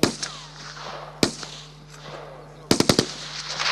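Automatic rifles fire at a shooting practice range: sharp loud bursts of rapid shots with a lone crack early on, distant pops between, and a final fast volley of several shots echoing outdoors.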